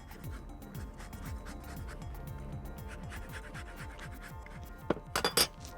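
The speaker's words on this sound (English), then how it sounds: "A little lemon zest." A lemon is zested on a grater beside a whole chicken grilling in white wine and Dijon, giving a steady series of rhythmic rasping strokes up close, with a few sharper clinks near the end.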